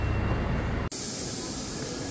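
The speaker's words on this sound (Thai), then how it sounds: "รถไฟก็กำลังมามาก่อนเวลานิดหน่อย" A train pulls into a station platform in Germany, a loud steady rumble and hiss that briefly cuts out and then continues as a broad, sustained roar.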